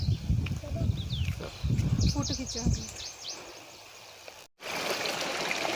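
A cold mountain stream flows through a Himachal village in the Barot Valley, a continuous rushing and trickling of water close by, with a voice and brief bird calls in the mix.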